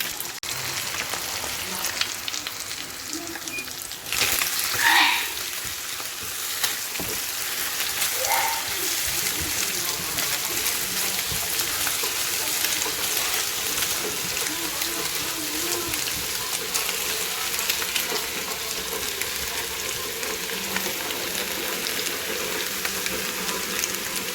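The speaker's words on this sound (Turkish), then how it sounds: "Şimdi hemen ellerimi yıkamam lazım." Running water pours steadily from a tap as hands are washed in a kitchen during breakfast cooking, a continuous close hiss with a few brief splashes and knocks.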